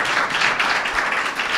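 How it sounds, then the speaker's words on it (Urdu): Audience at a church teaching seminar on Christian marriage applauding, a dense, even wash of many hands clapping together close by. "اگر آپ کو برکت مل رہی ہے تو تالیاں بجائیں یسوع مسیح کے لیے"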